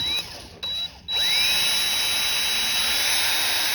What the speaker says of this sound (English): And what I did is I chucked it up in my drill.